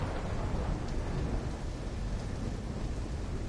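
Steady heavy rain with a deep rumbling thunderstorm in a video game, a dense continuous wash of noise with low rolling undertones and no pauses.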